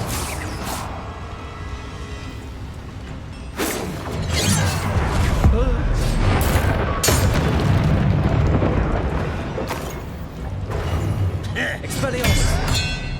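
Heavy magical explosions from a Bombarda spell in the Hogwarts Legacy video game, with several loud booming blasts and crashing debris in a dense, chaotic battle mix, plus voices over the fighting.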